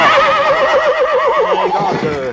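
An aging racehorse, a former racetrack champion, lets out a loud, close whinny with a wavering, descending pitch that trails off over about two seconds.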